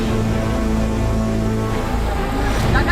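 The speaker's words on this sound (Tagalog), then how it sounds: "Sinimula ng community na sila yung unang tumawid sa malakas na baha." Strong river floodwater rushes in a loud, steady, unbroken roar close to the listener, with no voices over it.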